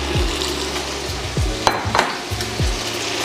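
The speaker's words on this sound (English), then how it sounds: "put our andouille sausage in there so that we can brown it" Andouille sausage browns in olive oil in a pan for red beans and rice, giving a steady sizzle with scraping and stirring knocks as the pieces are turned, close and fairly loud without talk.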